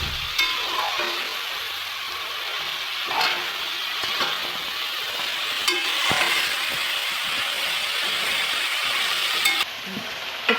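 Chopped greens fry in oil in a pan, giving a steady hissing sizzle throughout with occasional ladle taps and scrapes, close and fairly loud.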